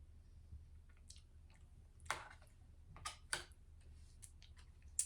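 Quiet, close chewing of fufu and egusi, soft wet squishes and small clicks spaced irregularly over a low background hum.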